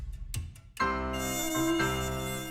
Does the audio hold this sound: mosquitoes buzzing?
yes